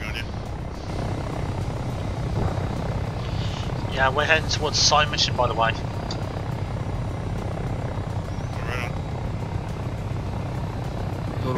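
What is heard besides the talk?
helicopter in video game Arma 3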